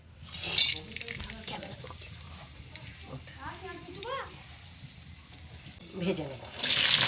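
Whole garam masala spices hit hot white cooking oil in a kadai, producing a brief bright sizzle near the end after some clinking of utensils, with a voice talking over part of it.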